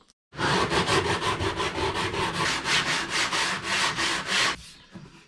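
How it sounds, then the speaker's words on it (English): Hand sanding of a 1951 Chevy car's body panel: quick, rhythmic back-and-forth rasping strokes, close and loud, about twenty passes in a steady run before stopping. "next up I'm going to do a little bit of sanding just to sort of smooth a couple of areas out"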